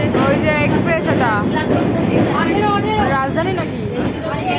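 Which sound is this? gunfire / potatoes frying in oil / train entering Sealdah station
train entering Sealdah station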